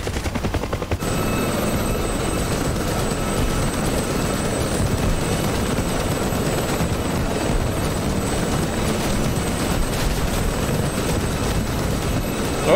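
Helicopters flying over a base in the DCS flight simulator combat game, a loud continuous rotor thrum and engine roar filling the whole stretch, with faint distant gunfire bursts beneath and no talk.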